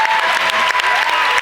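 Sustained applause from a crowd at a high school basketball senior night game, Derry at Highlands, with dense, steady clapping filling the gym throughout.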